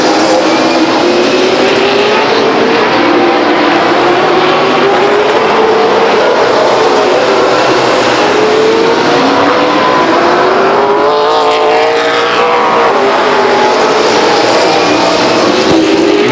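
Race cars roar around Stockton 99 Speedway in April 2000, several engines loud and close, rising and falling in pitch as they pass down the back stretch in a continuous droning blend.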